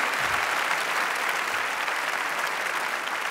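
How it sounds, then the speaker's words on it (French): Dense, steady applause from a crowd, continuous and even throughout, with no voices standing out. "C'est ce qu'on appelle un applaudissement suisse, mais du temps à arriver."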